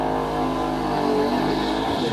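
A drag racing car accelerates hard down the strip at a spring nationals meet at The Bend, its engine a loud, steady roar that holds throughout with no voices over it.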